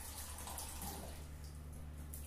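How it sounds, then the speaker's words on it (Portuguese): Water poured into a small plastic ice cream tub while preparing to clean a bathroom, a faint steady running and splashing with no talk. "dentro aqui desse potinho de sorvete, eu coloco um pouco de água"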